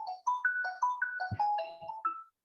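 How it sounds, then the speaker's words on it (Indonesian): A melodic phone ringtone plays nearby, a quick run of bright electronic notes that rise and fall for about two seconds before stopping abruptly, with no talking over it. "ada telepon, saya matikan terlebih dahulu."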